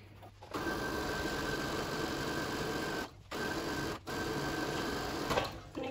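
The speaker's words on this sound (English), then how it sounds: "I'm just going to go ahead and sew it in place." Sewing machine stitching a 1/4-inch seam allowance on fabric for a scrub cap, a close, steady mechanical whir that runs for several seconds, stops briefly twice, then resumes, with no talking.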